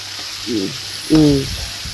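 Butter melting and sizzling in a hot pan while cooking kasuri methi chicken in a light gravy, a steady close hiss with two brief louder bursts of spattering.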